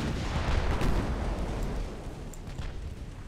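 Mark 3 11-inch naval guns fire in the pre-dreadnought naval game Ultimate Admiral Dreadnoughts, a loud, heavy boom that rolls into a long, low rumble and slowly fades, with no voices.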